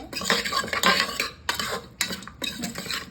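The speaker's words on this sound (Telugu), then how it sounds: "బాగా మిక్స్ చేసుకోవాలి." A spoon stirs and mixes curry in a metal pot, giving quick scraping clinks in uneven bursts, close and fairly loud with no talking.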